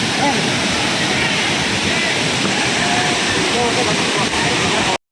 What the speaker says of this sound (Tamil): இந்த அருவிக்கு பக்கத்தில் வந்தேன் இதோட சவுண்டை மட்டும் கேளுங்க